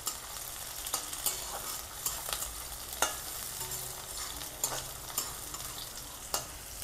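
Chopped green chillies fry in a pan under a soft continuous sizzle, with repeated light scrapes and taps of a spatula stirring them, close and fairly quiet with no talking.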